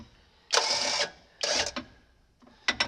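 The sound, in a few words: winch being tensioned on John Deere 8700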